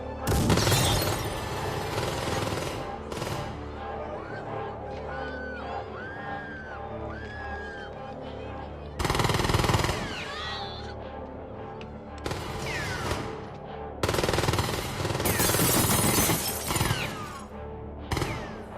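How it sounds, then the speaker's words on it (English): Uzi submachine gun fire in The Terminator movie: loud bursts of rapid shots in several separate volleys, with crashing impacts and film score between them. "Arnold Schwarzenegger, fires an Uzi at his foes in The Terminator the following year."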